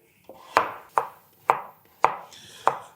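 A knife slicing potatoes into thin rounds about 3 mm thick, five crisp chops on a board at a steady pace, close and clear with no talk.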